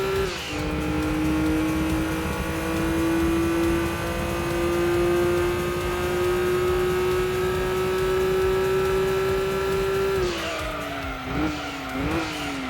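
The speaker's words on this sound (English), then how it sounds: "This has got some pretty sweet engine sound design." Racing car engine in the PlayStation game Gran Turismo 2, a loud sustained high rev that climbs slowly for about ten seconds, then drops and wobbles through gear changes, with tire squeal and no talking.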